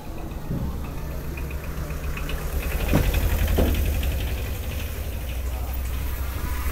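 An easy bike auto-rickshaw pulling up and idling nearby, a low steady motor hum that swells briefly as it arrives, with faint background voices.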